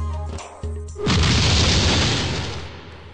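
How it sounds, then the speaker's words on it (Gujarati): Ceremonial cannon salute at the entrance of Khirasara Palace in Rajkot: one loud, deep boom that rolls out and fades slowly, after a few short tonal sounds. "તોપોની સલામી સાથે અંદર પ્રવેશો"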